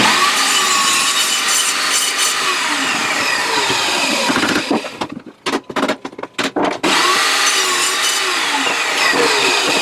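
A hand saw cuts through a clamped wooden whirligig wing with loud, close, steady rasping back-and-forth strokes, briefly stopping midway in a few choppy strokes before resuming the full rhythm.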